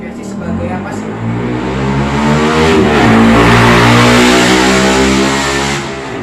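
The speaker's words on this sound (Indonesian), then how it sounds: "Maklum pinggir jalan, jadi banyak motor-motor nunggu." Motorbikes rev and idle nearby at a roadside in Labuan, Pandeglang, a loud steady engine drone that swells in the middle, with people chatting underneath.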